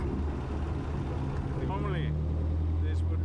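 A worn car engine with run bearings and no oil pressure runs steadily on a rally drive, a loud continuous low drone throughout with faint voices and a brief whistle-like tone partway through.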